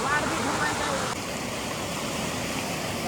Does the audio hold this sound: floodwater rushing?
yes